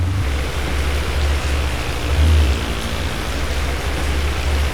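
Heavy rain pours down during a typhoon as a constant loud hiss over a low rumble, with no voices.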